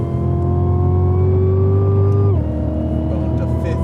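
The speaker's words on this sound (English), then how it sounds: "Going to 5th gear." Race car engine on a track holding a steady high drone, then a sharp drop in pitch at a gear change into fifth, continuing loud and close from inside the car.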